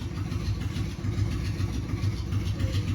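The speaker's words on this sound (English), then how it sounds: "then warms it up for 15 minutes, and then he gets on his bike and goes away" A motorcycle engine idles steadily through the scene, a continuous low rumble with an even pulsing rhythm, held at moderate level and heard alone without talk.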